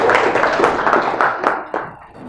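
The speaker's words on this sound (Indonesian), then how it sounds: "Tepuk tangan dulu untuk temannya" Classmates in a school classroom clap for a student who comes to the front, a dense spread of overlapping hand claps at close range that tapers off near the end.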